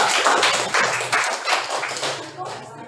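A class of students applauding group 3 after their presentation: a burst of dense, close hand clapping that runs steadily for a few seconds before easing off, with voices mixed in.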